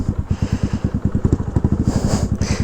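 A Honda Navi motorcycle engine sputters as it starts without choke, running in a rapid, loud, close chugging pulse with a rough rhythmic beat and a slight clatter.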